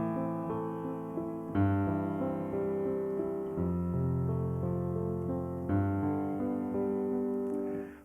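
A sustained chord progression using altered chords, played in a slow, legato sequence of about four sustained harmonies with clear changes between them, rich and moderately loud with no voices.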